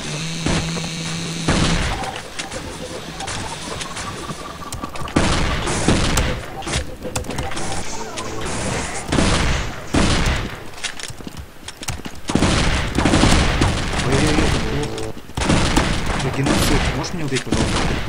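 Bursts of rapid video game gunfire and booming shots crackle through a dense, noisy mix, with voices talking intermittently underneath.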